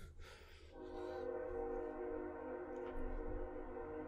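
A passing train sounding its horn, a sustained, fairly distant multi-tone blare held for several seconds over a low rumble of rolling wagons.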